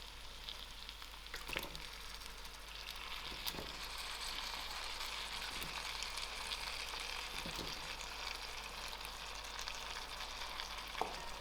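Washed cauliflower, potatoes and madumbes going into a hot pan for a mixed vegetable curry, a constant hissing sizzle with a few soft knocks and scrapes spaced through it, close and even.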